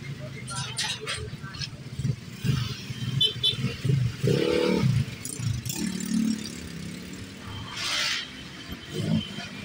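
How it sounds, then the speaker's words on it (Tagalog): Heavy road traffic on Alabang–Zapote Road: a steady, close rumble of cars and motorcycles with engines revving, running throughout under people talking. "Sobrang traffic."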